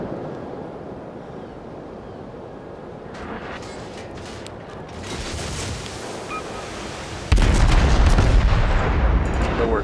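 Naval artillery salvo in World of Warships, with distant gun reports over ocean wind and surf, then a heavy, loud crash of shells and splashing water that dominates the final seconds.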